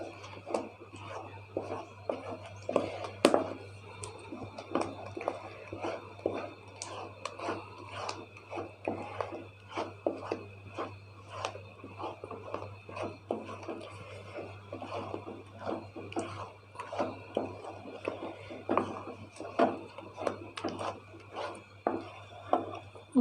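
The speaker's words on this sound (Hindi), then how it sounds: "मुसलसल चमचा हिलाते रहना है पकाने के लिए।" A spoon stirs a besan mixture in a cooking pot, scraping and knocking steadily in a fast, continuous rhythm over a low steady hum, close and moderately loud, with no voices.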